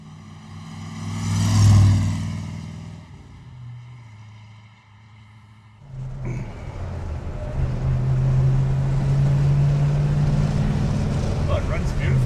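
A 1964 Iso Rivolta IR300 driving off, its engine rising from a loud rev into a steady, close drone, with someone talking over the running motor.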